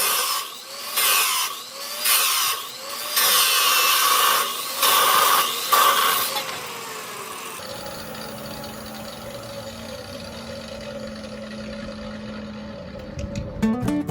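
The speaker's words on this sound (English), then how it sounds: "using a metal cutting blade on a chop saw to cut it to length" A chop saw fitted with a metal cutting blade cuts an aluminum arch leg for a catamaran, giving a loud, close whining screech in several pulsing bursts, then the motor spins down into a steady lower hum.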